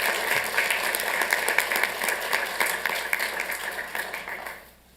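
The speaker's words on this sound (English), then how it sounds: "please give him a round of applause for the Arts and Culture Commission and all the work he's done" At a city council meeting, the audience gives a full round of applause that stays dense and lively before fading quickly into near-silence at the end.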